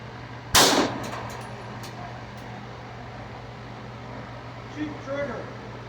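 A single pistol shot from a PSA Dagger Full Size firing 124 grain ammunition at a 10-yard outdoor range, a sharp loud crack over a steady hum, followed by faint talk.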